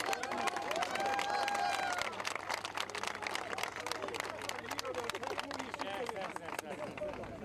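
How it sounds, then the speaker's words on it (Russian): Crowd applause in Ingushetia as residents welcome Olympic champions, a loud outdoor clatter of many clapping hands mixed with voices and crowd noise, strong at first then easing slightly. "аплодисменты"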